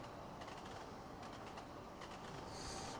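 A TGV Thalys high-speed train runs through Paris Gare du Nord in the game Trainz Simulator 2, giving a steady rumble with rhythmic clickety-clack wheel beats and a rising hiss at the end, quiet and without talking.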